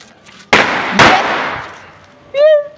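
Two loud firecracker bangs burst close by, about half a second apart, during the Tihar festival, each leaving a fading rumble before a brief voice cries out.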